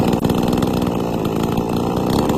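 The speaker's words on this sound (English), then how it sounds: "Chainsaw works powerfully." A gasoline chainsaw with dual electric and manual start runs steadily at high revs, a loud, close, buzzing engine drone that holds constant throughout with no other sounds.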